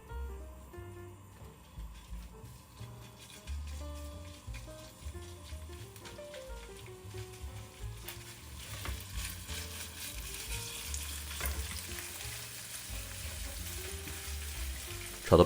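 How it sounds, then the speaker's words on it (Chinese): Minced beef stir-fried in oil in a wok over medium heat, a soft continuous sizzle with scraping and stirring clatter, building slightly louder toward the end. "把牛肉碎炒散"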